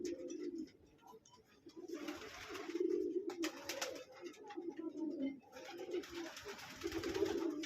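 Pigeons in a home loft give soft, low, repeated coos that keep returning, faint and fairly close, with light rustling between calls.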